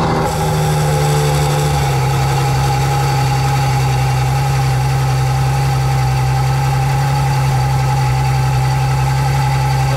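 A cold Ferrari Portofino engine idling, a loud, steady, close hum with a constant pitch and no change in revs throughout, and no talking.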